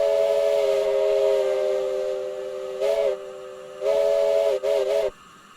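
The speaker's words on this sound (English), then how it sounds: "It has a quillable whistle from inside the cab too." Steam locomotive whistle heard from inside the cab in Train Simulator Classic, one long sustained blast followed by several shorter quilled toots, loud and close with a breathy steam hiss.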